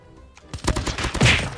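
Gunfire in the Call of Duty video game, a rapid burst of close, loud shots rattling in quick succession.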